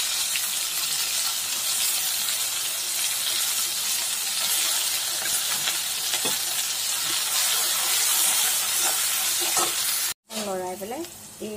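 Ginger garlic paste and mustard seeds sizzle loudly and steadily in hot oil in a clay pan, a dense close frying hiss that continues throughout before a brief cut near the end.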